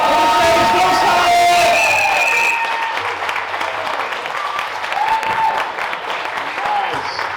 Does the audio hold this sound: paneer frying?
no